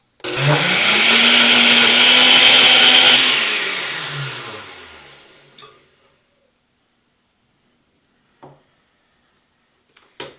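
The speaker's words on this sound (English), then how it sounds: "Time to turn the blender on." A loud blender purées vegetables for baby food at high speed for a few seconds, then winds down to silence, followed by a couple of faint knocks.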